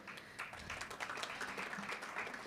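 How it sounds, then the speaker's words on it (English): A conference audience at a sports Ayurveda session gives quiet, scattered applause, faint and somewhat distant, lasting throughout without a clear peak. "surely a bigger round of applause"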